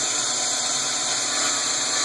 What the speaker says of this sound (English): I don't like the sound of the saw